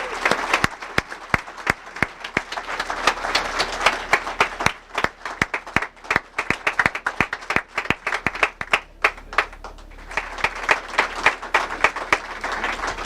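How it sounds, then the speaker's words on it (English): A large crowd gives Mr. Raymond Ackerman a round of applause, with dense, continuous clapping and some cheering that ebbs and surges, loud and close for several seconds. "give a round of applause to Mr. Raymond Ackerman"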